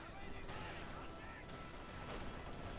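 Artillery barrages and rapid gunfire from the video game Company of Heroes 2, a dense, faint, continuous battle din of shots and blasts, with a voice talking over it.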